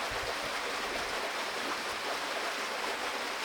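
A river flows near an old rural village settlement, a steady broadband rush of moving water heard continuously without interruption.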